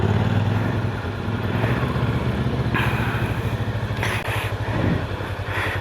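A Macbor Montana XR5 510 motorcycle engine labours off-road up a dirt slope, a close, loud, throbbing exhaust with uneven throttle surges and a few clattering bursts, no talk over it.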